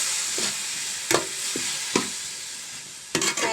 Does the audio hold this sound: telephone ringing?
no